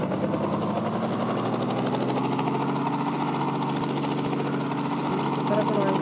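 A helicopter in the video game Indian Bike Simulator gives off a steady, droning rotor and engine hum with a fast pulsing beat, holding even and fairly loud through the whole stretch.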